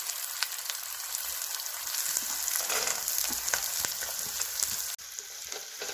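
Onion and peas frying in a pan, a steady close sizzle punctuated by sharp clicks and scrapes of a spoon against the metal, with a brief dip near the end.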